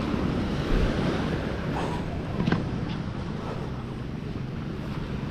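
Heavy waves churn and surge at sea while wind buffets the microphone, a constant rough roar with a few louder thumps.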